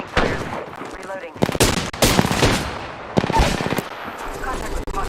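Gunfire in an Apex Legends match: loud rapid bursts of automatic weapon fire in several close volleys separated by short pauses, with a game voice calling out briefly between them.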